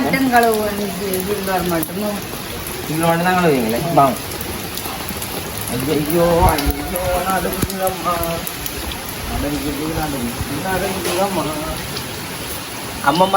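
Heavy rain during a storm at a home in Jaffna, a constant wash of falling water beneath people talking throughout.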